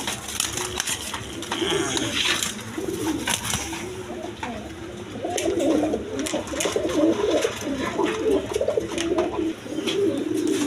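Several pigeons, including Rajgolla and other breeds, keep up soft, continuous cooing that overlaps in a layered murmur. Scattered clinks and rustles come from nearby, as at a pigeon market.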